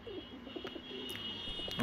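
A marked pigeon coos in a few short, low, close calls over a faint steady background hum.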